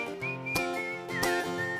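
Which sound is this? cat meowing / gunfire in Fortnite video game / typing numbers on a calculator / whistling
whistling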